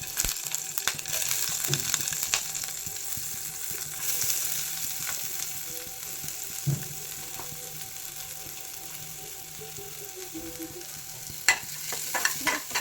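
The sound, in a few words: mustard seeds, curry leaves and chillies sizzling in hot oil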